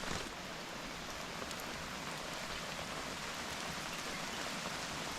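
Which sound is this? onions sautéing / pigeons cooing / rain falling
rain falling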